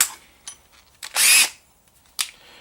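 A power drill with a six-flute bit in the chuck whirs in short bursts, one longer high-pitched spin in the middle and brief clicks and blips around it, close up.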